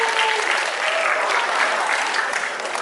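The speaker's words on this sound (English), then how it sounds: "Let's give her a round of applause." Audience applause at a tiger presentation, with steady dense clapping throughout, loud and close, without a break.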